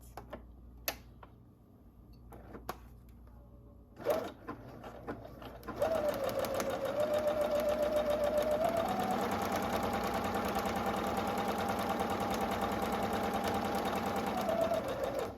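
After a few light clicks and taps, a sewing machine starts stitching a seam and runs in a steady, close, rhythmic whir for several seconds.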